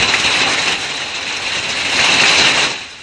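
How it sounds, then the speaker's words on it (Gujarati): Heavy rain mixed with hail falls in Kheda, Gujarat. It makes a loud, continuous hiss and patter that swells slightly toward the end, close by, with no one speaking. "ખેડામાં કઈ રીતે વરસાદ વરસ્યો છે, કરા સાથેનો વરસાદ, તેના દ્રશ્યો સામે આવ્યા છે"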